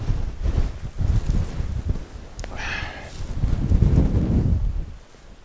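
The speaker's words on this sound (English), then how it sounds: "It's so windy that the camera is going to blow over." Strong gale-force gusting wind in a freezing storm buffeting the microphone at a campsite, with heavy low rumbling blasts rising and falling across the clip.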